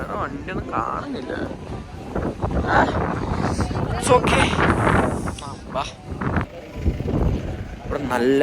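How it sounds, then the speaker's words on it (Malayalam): Strong wind gusts across a hilltop in Coorg, buffeting the microphone with a steady low roar that surges and dips over several seconds while a voice talks close by. "ഇവിടെ നല്ല കാറ്റുണ്ട്."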